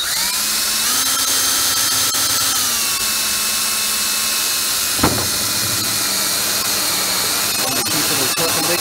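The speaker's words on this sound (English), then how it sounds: "I used a 1-inch hole saw bit" A power drill turns a 1-inch hole saw into plastic for a greenhouse lettuce seedling system: a loud, steady motor whine that shifts in pitch as it bites, with a sharp click midway before the whirring carries on.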